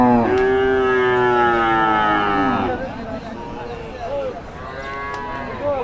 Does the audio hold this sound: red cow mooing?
yes